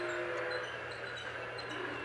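Wireless remote control toy train giving off its sound effect, a faint electronic horn-like tone with thin whistle blips over a soft motor hum.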